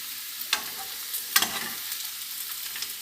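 Potatoes sautéing in a pan, stirred and turned with a few sharp scraping clatters over a soft, steady sizzle, close and alone.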